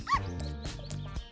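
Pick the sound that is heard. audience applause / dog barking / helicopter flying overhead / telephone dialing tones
dog barking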